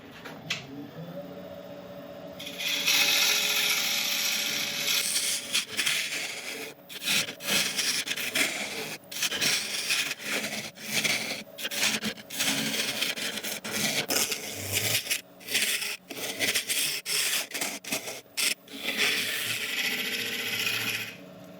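A lathe tool scrapes resin from a spinning wood burl in rough, rasping bursts, broken by repeated short pauses and restarts. The cutting is loud and close, with no speech.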